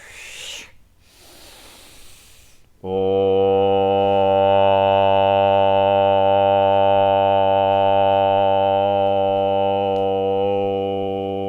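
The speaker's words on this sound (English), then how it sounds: "the simple sound of" After a couple of soft breaths, a deep, resonant sung Om rings out, one long sustained tone that fades slightly toward the end.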